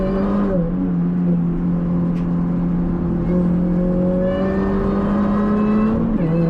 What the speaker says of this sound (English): that's me in our little old Mini, closing in on a touring car driver in a braking zone